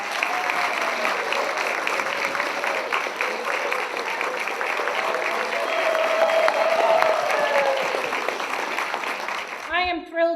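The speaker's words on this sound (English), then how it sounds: "So we can all clap once again for Sue Sherman." Sustained audience applause at a school district retirement celebration, a dense wash of many hands clapping for about ten seconds, steady and fairly loud, fading out at the end as a few voices and sounds break through.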